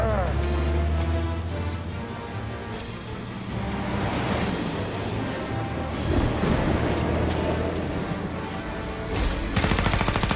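Gunfire in the Mafia video game, dense crackling volleys and shots that run nearly nonstop for ten seconds, with a noisy rain-like wash of rapid reports and a few louder bursts near the end.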